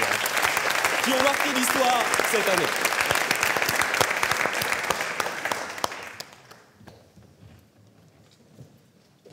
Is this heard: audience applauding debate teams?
yes